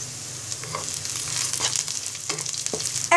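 Whole cardamom, cloves, cinnamon pieces and bay leaves frying in oil with browned onions, a close, steady sizzle with a few quick stirring scrapes and pops, no one talking.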